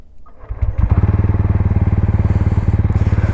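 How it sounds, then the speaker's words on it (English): A TVS Ronin 225 motorcycle with a silent start system fires up quietly without starter whine, then settles into a steady, loud, rhythmic single-cylinder idle close by. "By the way, this motorcycle comes with a silent start system."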